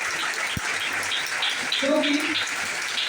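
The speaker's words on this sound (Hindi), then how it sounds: "तो मैं चाहता हूँ जरा एक बार जोरदार तालियां होनी चाहिए" Steady audience applause fills the whole stretch, with a voice speaking briefly over the clapping.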